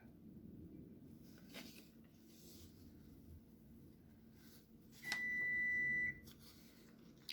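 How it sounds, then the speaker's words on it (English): A kitchen oven beeps while dinner cooks, one sustained electronic tone of about a second over faint room noise and light rustling. "And that would be the oven because we're making dinner right now."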